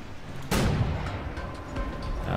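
Big cannons firing in the video game Wolfenstein: The New Order: a sudden loud boom partway through, followed by a sustained rumbling roar of battle.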